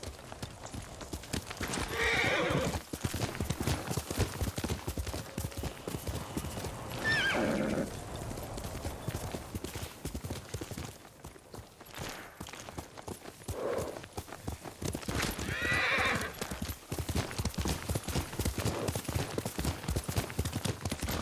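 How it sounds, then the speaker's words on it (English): Horse hooves clip-clop steadily in the Ghost of Tsushima video game, with several loud whinnies breaking out over the trotting, close and prominent throughout. "Yuriko's horse. She can't be far."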